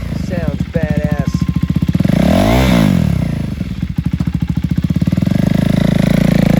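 A used 2024 KTM Duke 390 single-cylinder sport motorcycle revs loudly and close up, its engine note climbing and falling in several sharp blips over a steady idle, with a voice speaking briefly at the start.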